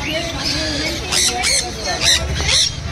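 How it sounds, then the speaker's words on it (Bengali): A tame monk parakeet at a bird market gives several sharp, harsh squawks in close succession, loud and near, over a busy crowd background with people talking. "এটা ফুল টেম মঙ্ক রয়েছে"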